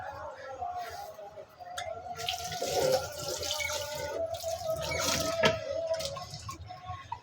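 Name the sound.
washing plates and dishes at a sink with Lemon Bright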